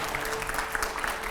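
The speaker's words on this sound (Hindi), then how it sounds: "जोरदार तालियां, तालियों की आवाज नहीं आ रही है मुझे।" Canned applause effect on a Hindi TV news debate show, a steady dense wash of clapping that holds evenly across the whole moment without pauses.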